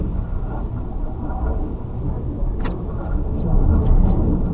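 A 2025 Toyota Corolla's engine drones steadily from inside the cabin as the car accelerates, a dense low rumble that climbs slightly in loudness toward the end, with a brief click partway through.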